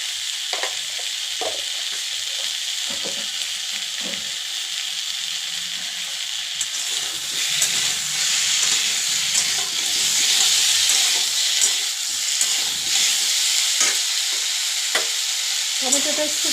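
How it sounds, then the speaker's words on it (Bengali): Chopped tomato sizzles and fries in a hot pan with a pinch of sugar, cooking for a koi fish curry with potatoes. A steady close hiss runs throughout, broken by repeated scraping stirs, with no talk. "যখন টমেটোটা দিয়ে আমি ভাজবো তখন একটু চিনি দিয়ে দিতে হবে"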